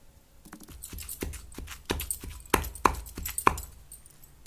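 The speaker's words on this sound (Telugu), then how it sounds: "బాగా ఇట్లా దంచుకుంటున్నాము." Ingredients for a cucumber and sesame chutney being pounded in a small stone mortar; a run of sharp, close knocks and taps in an irregular rhythm, fairly quiet, with no talking.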